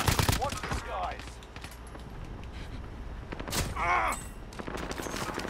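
Gunfire in Call of Duty Modern Warfare: rapid, sharp shot bursts at the start with a second cluster near the end, mixed with whooshing game effects and faint voices underneath.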